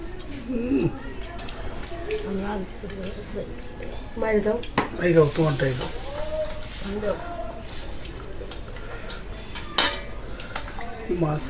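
Curry of catfish and new potatoes is ladled onto a plate with clinks and scrapes of a spoon against dishes, scattered close clatter under people talking at home.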